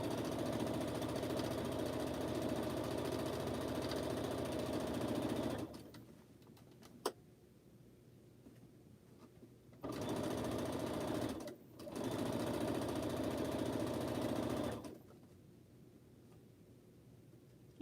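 A sewing machine chain-piecing quilt fabric runs in two long steady buzzing bursts, separated and followed by quiet pauses. There is a brief click between the runs.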